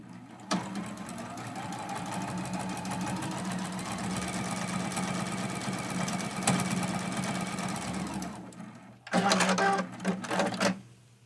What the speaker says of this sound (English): We're going to sew that seam